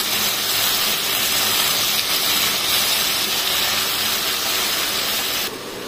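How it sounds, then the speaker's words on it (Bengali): Potatoes fry in hot oil with cumin and dried chili, giving a steady, loud, dense sizzle that carries on unbroken with no talking. "এবার একটু আমি লাল লাল করে ভেজে নেবো।"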